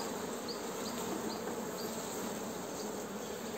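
Honeybees buzzing steadily and close as they are brushed off a hive frame, a dense continuous drone with no voices.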